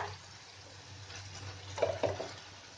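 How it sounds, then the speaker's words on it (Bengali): Beef frying with ginger-garlic paste in a pan, a quiet steady sizzle with a couple of brief stirring scrapes near the end. "দিয়ে এটাকে এখন ভালোভাবে কষিয়ে নেব"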